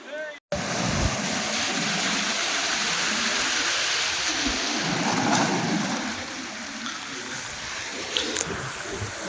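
Sea waves roar and wash in steadily at the Mahuva coast in Gujarat, a broad continuous surge that swells and eases, with wind buffeting the microphone throughout.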